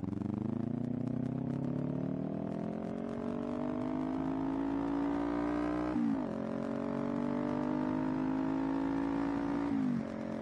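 A 2018 Kawasaki Ninja 400 motorcycle engine revs high and steadily climbs in pitch while riding, briefly dipping at a gear change and rising again, then dipping once more, a continuous buzzing whine heard close.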